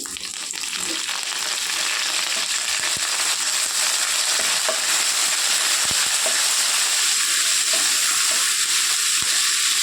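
Curry leaves hit hot oil in a pan and sizzle loudly and steadily, a dense crackling spatter up close that continues unbroken with occasional pops, no talk.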